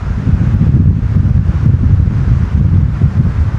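Wind buffets the microphone in a steady low rumble, gusting continuously with no voices or other clear sounds, at a seaside campsite in Akçakoca, Turkey.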